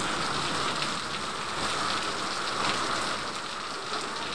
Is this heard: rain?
yes